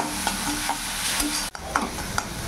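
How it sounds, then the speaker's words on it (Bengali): Spice masala being sautéed and stirred on a low flame for a sorputi fish curry, a continuous close sizzle broken by soft scraping strokes of the spoon, with a brief dip midway. "সিম আঁচ করে মশলাটা ভালোভাবে কষিয়ে নিতে হবে।"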